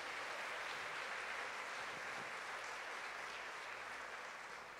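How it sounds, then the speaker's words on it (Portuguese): A church congregation applauds during a sermon, the clapping dense, steady and fairly distant, continuing evenly without talk over it. "você pode aplaudir ao Senhor por isso"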